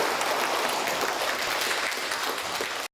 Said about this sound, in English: Let us once again give a warm round of applause to thank the esteemed Khenpo Sodargye for his